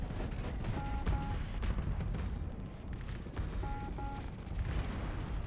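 Rockets fire during a Starsector space battle, with dense overlapping launches and blasts that make a steady, loud barrage and repeated sharp bursts on top.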